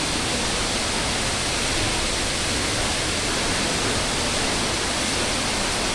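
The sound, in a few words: Pagsanjan Falls waterfall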